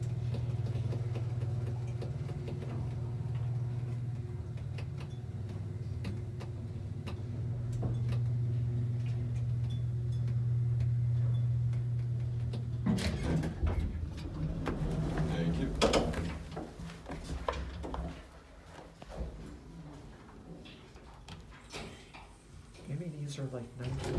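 Vintage Advantage traction single speed elevator in New York City, a steady low motor hum for several seconds, then clunks and mechanical rattles as it stops and the doors work, with people talking.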